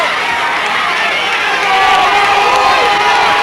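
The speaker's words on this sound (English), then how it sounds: "The crowd is finally getting into the game" A crowd cheers at a 2004 Thanksgiving high school football game between Vineland and Millville, a dense, loud, continuous roar of voices in an open stadium that swells midway through.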